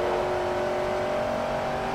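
Race car engine in the Forza Motorsport 3 video game holding a steady, loud drone with a sustained high whine, running continuously without breaks.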